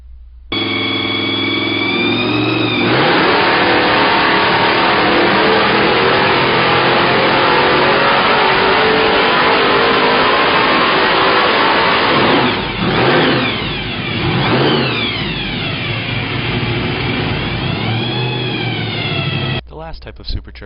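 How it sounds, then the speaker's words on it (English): Small block Ford engine topped with a Roots supercharger, revving loud and close with a steady blower whine, then dropping back in a few rising and falling swells before cutting off. "This video is of a small block Ford engine with a roots blower mounted on top of it."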